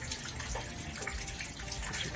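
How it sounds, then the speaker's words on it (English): Rainwater drips and splashes steadily off a garage roof after a storm, making a dense, continuous patter of close drops with no talk. "That's just dripping off the roof."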